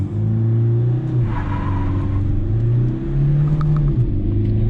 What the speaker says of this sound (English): let's do a quick acceleration test in the Scorpio S10 and first gear, revving up to